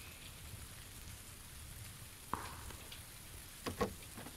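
Rain in a video game, a steady faint patter forming a soft hissing wash that stays low throughout, with a couple of brief sharper taps near the end.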